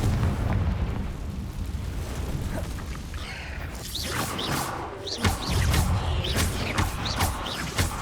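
Booming spell explosions blast in a cave in the video game Hogwarts Legacy, a dense rumbling burst followed by several sharp cracking pops, loud and without talk.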